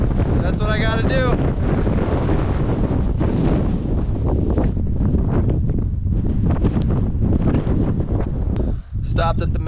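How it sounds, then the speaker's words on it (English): Heavy wind on a foggy mountain summit in the Presidential Range buffets the microphone with a continuous loud roar and gusty rumbling, and a voice briefly comes through. "It's pretty foggy and windy and slippery"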